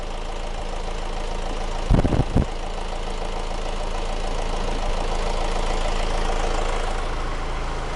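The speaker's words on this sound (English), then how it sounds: "I'm going to leave the engine running for the moment just to get it up to" A Honda CR-V engine idles steadily at operating temperature, a constant low hum running alone throughout, with a brief louder knock or clunk near the two-second mark.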